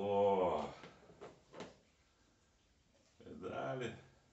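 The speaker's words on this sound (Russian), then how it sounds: "Ой, как скрипит." An old fishing tackle box is opened with a drawn-out creak of its hinge or lid, followed by a few short knocks and a second creak, quiet and close, with brief talk in between.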